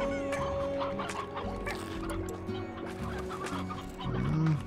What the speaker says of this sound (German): Hier oben irgendwo waren die Hühner.